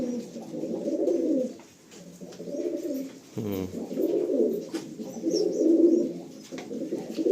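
Pigeons in a loft coo steadily and close up, with repeated rolling phrases broken by a short pause and a low thump midway before the cooing resumes.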